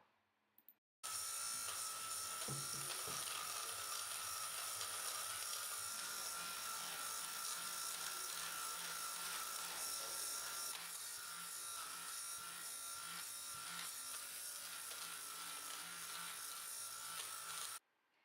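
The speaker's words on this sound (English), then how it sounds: "I'll show you how this shaver can make this fabric looks brand new." A steady electric buzzing hum runs unbroken for over fifteen seconds, the whir of a small portable fabric shaver removing fluff from cloth, with no talking.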